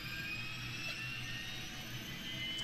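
The APU of an iniBuilds A300 in the X-Plane 11 flight simulator runs as a steady, faint turbine drone with a high whine and a low rumble, unchanging and with no talk.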